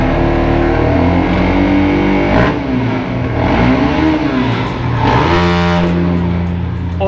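A motorcycle on its stock exhaust revs hard in a spot with strong echo, loud repeated roaring bursts that swell, fall back and ring off the surroundings, with no talk over them.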